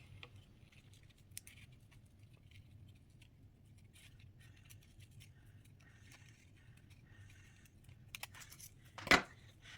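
Scissors snip out paper letters for a seasonal art journal, giving faint, scattered cuts and scrapes over a quiet low hum, with a sharper, louder snip near the end.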